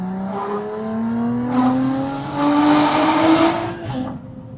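A Lotus sports car's 3.5-litre V6 engine revs up close, its pitch climbing in rising, howling pulls as it accelerates, loud and aggressive.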